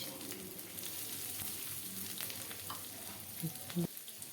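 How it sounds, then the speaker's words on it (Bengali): Onions fry in a pan with whole garam masala, cinnamon, cloves and cardamom, giving a soft continuous sizzle; occasional stirring scrapes and a couple of utensil taps near the end, fairly quiet and close. "পেঁয়াজটা একটু ভালো করে নেড়ে চেড়ে ভেজে নেব।"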